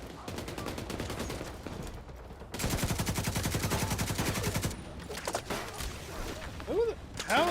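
An enemy turret in The Division 2 fires rapid, evenly spaced automatic bursts, loud and close, with short pauses between volleys and a few scattered single shots toward the end.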